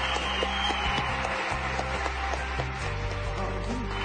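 Steady applause from an audience, dense clapping that holds throughout at a fairly loud level, with some musical tones and faint voices mixed in beneath.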